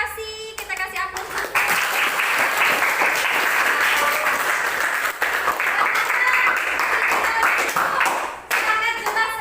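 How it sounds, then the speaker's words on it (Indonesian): Students in a classroom clapping together in sustained, dense applause, loud and close, with a few voices briefly mixed in. "Kita kasih aplaus"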